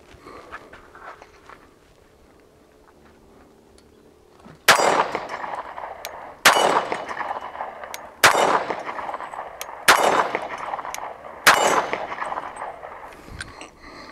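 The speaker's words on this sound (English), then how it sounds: "we'll put five rounds downrange just to get a baseline" Five loud, sharp pistol shots from a Rock Island Armory handgun fired downrange at an outdoor range, evenly spaced about two seconds apart after several seconds of quiet, each with a short echoing tail.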